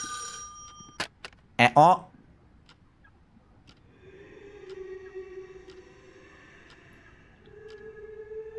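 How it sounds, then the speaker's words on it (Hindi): A telephone rings in two short bursts near the start, fairly close and loud, then steady electronic tones and faint speech follow. "फिर से फोन कर रहा है भूत मेरे को।"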